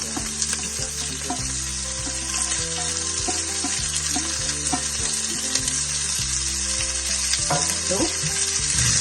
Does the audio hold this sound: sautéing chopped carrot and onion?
yes